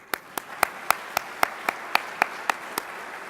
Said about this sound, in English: Let's give them a round of applause so maybe they'll keep on giving